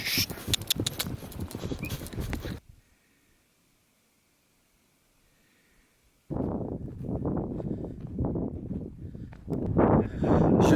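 Horses walking in the Gobi, hooves clip-clopping close by in a steady patter that breaks off into near silence for several seconds, then resumes louder.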